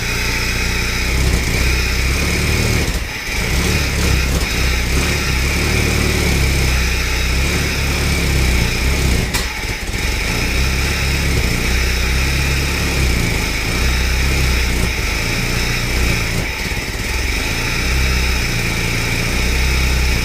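Ford GPW jeep engine running loud and close, a steady rough idle that holds for twenty seconds with brief dips and faint throttle blips that barely raise the revs, no talk.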